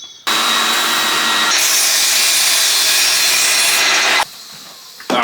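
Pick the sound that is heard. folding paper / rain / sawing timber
sawing timber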